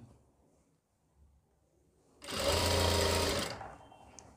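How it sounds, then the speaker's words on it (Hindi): An electric sewing machine stitches fabric for an elastic-back pant, a loud steady whirring run of about a second and a half that starts abruptly after a quiet stretch and then stops. "यहाँ पर हम सिलाई लगाएंगे"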